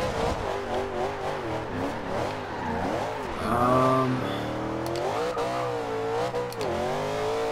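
A 2015 Chevrolet Camaro Z/28 racing in Forza Horizon 2, its engine note climbing and falling through repeated gear changes, sustained and loud with no talking.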